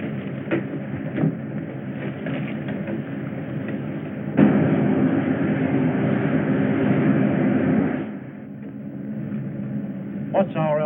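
A propeller aircraft's engine drones in a steady climb at about 2,100 RPM, loud and continuous, swelling midway and then easing off, with a few sharp knocks over the top.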